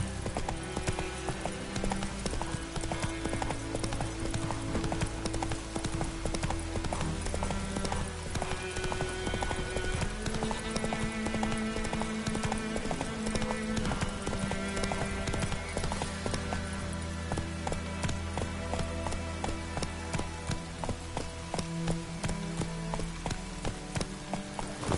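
Hooves of Roach, the horse in The Witcher 3, clip-clop in a fast, steady galloping rhythm for the whole stretch, layered over a dense game soundscape with music.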